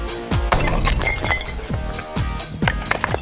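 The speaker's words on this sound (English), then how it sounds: "Okay, but what about smashing them with a sledgehammer?" A sledgehammer strikes a pair of tactical glasses again and again, giving about six sharp, close impacts with cracking, clinking edges at an uneven pace.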